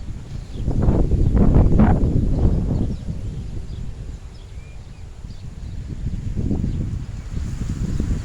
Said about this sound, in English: I believe the wind's meant to die down tomorrow